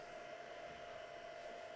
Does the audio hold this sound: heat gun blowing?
yes